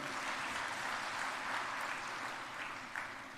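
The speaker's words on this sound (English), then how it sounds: "A very huge round of applause to them as well." Audience at a university inauguration and orientation for first-year undergraduates applauding the staff, a steady, even round of clapping from a large hall that tapers slightly at the end.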